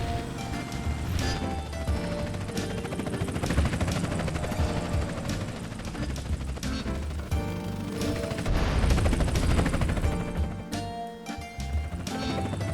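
A helicopter in GTA San Andreas drones under a busy mix of game action, with gunfire bursts, crashes and impacts layered over the steady rotor noise throughout.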